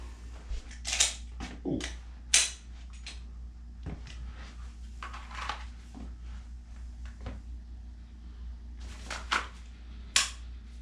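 Pistol dry fire practice, with sparse, faint, sharp trigger clicks and small mechanical handling noises scattered over a steady low hum, separated by irregular pauses.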